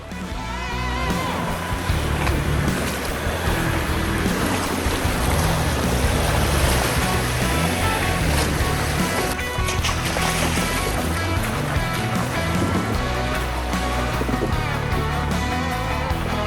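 A jeep's engine roars as it pushes through a deep off-road water hole, with heavy splashing and rushing water throughout, loud and continuous.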